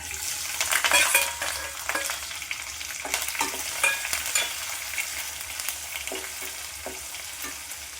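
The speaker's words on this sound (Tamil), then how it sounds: "இப்போ வெங்காயம், பட்டை மிளகா, கருவேப்பிலை இதை மூணையும் நம்ம சேர்த்துக்கணும்" Onion, dried red chilies and curry leaves sizzle steadily in a hot pan, with a spoon stirring and scraping in irregular strokes close by, the frying hiss continuous throughout.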